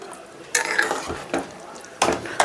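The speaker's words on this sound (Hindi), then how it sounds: "और इस तरह से आलू को तोड़ना चूर भी करना है, जो आपका रस बिल्कुल गाढ़ा हो जाए।" Boiled potatoes with chickpeas being broken up and stirred in a simmering curry pot for Banarasi kachori, giving a few short scraping, clinking spoon strokes against the pot over a soft bubbling background.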